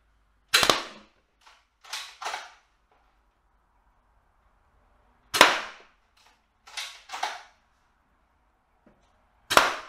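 An M24 gel blaster sniper rifle fires test shots as sharp, loud snapping pops, some single and some in quick pairs, separated by near silence.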